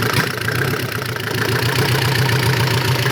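Mercedes OM604 diesel engine with a mechanical injection pump in a Vito W638, held at raised revs with a steady, continuous low drone and slight roughness, close and loud throughout.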